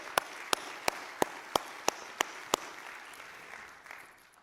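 A church congregation claps in unison during a service, eight sharp, evenly timed claps sounding fairly distant and faint, then a soft room murmur as the clapping stops.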